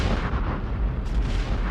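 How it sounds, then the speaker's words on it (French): A loud, continuous explosion roars with dense broadband rumble and crackle throughout, like a fuel tank bursting into flames beside an aircraft on the ground, with no speech over it. "une explosion déchire le silence, des flammes jaillissent"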